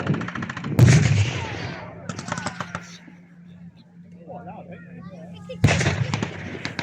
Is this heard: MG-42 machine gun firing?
yes